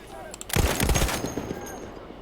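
A short loud burst of gunfire in the Battlefield 1 campaign, a dense rattle of shots lasting about a second that rings out and fades.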